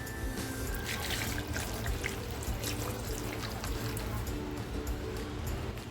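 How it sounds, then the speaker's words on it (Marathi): Lukewarm water poured over dried, salted surmai fish in a bowl: a soft, steady splashing trickle under a diffuse background hiss. "आता हे पाणी मी ह्या सुरमईमध्ये टाकते"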